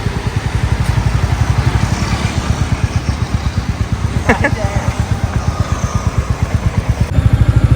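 A motorcycle engine runs close by with a steady, rapid low thumping pulse, and a voice speaks briefly partway through.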